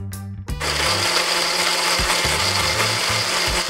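An electric mixer blender grinds steadily as lassi is made, a loud close whirring motor that starts abruptly and runs without a break.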